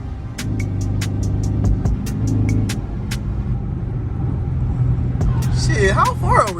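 A car with a 392 engine rumbles and revs through its exhaust, a low heavy drone that swells and eases while people talk and react over it from inside.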